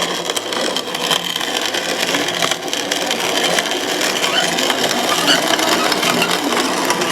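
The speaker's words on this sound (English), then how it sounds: "So for a lot of y'all that have never heard of grinding up popcorn, this is what it looks like." A hand-cranked grain mill grinds popcorn into meal with a dense, continuous gritty crunching and rumbling that stays loud and steady from start to finish.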